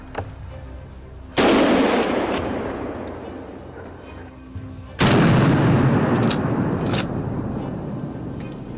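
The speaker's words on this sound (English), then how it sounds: "The shots rang out like a warning." Two loud, sharp gunshots ring out roughly three and a half seconds apart during a wild boar hunt outdoors, each followed by a long, rumbling echo that slowly fades away.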